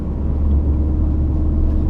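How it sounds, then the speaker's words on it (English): A Ford Focus RS exhaust with a tailpipe actuator valve gives a steady, deep low rumble while cruising, close and fairly loud, with no rise in revs or talking. "Maybe that's where that fake exhaust sound is coming from too."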